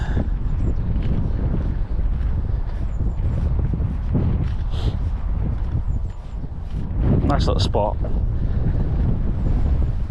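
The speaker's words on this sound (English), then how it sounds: "It's a beautiful weather today, but it's just windy." Strong gusting wind buffets a GoPro microphone outdoors on a sunny, windy day, a steady low roar that swells throughout, with a voice briefly talking over it.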